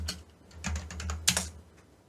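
Computer keyboard typing during a coding session, quick irregular bursts of keystrokes with a louder cluster near the end, close and fairly quiet with no talking.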